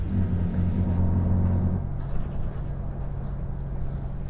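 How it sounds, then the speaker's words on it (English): TransBusselton route 816 diesel bus motor running steadily on the road between Vasse and Busselton, a loud low rumble with a deeper engine drone that eases back partway through and continues as a constant hum. "You probably can hear the motor"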